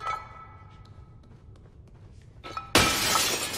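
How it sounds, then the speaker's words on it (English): Glass shatters suddenly in the Little Nightmares 2 video game, a loud bright burst of breaking shards that follows a quiet stretch of soft footsteps and small taps. "I need to break the glass."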